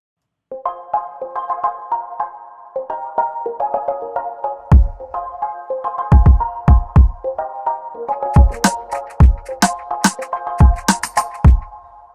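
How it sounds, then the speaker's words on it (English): A tweaked Chill Waves preset from the Alchemy synth in Logic Pro X plays a soft melodic pattern of sustained tones, later joined by punchy low kick hits and bright percussive clicks in an Afrobeats groove, with no voices. "I tweak a preset in Alchemy, chill waves"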